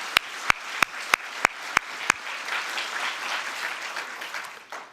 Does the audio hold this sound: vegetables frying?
no